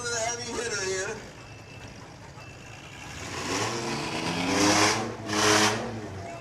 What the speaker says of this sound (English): Listen to that Camaro.